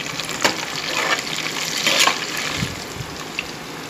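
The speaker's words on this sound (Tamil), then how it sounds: "வெங்காயம் வந்து நல்லா வதங்கிட்டு இருக்குதுங்க" Onions frying with a handful of curry leaves in a kadai for quail biryani, soft sizzling with a few stirring scrapes and clinks, moderately near.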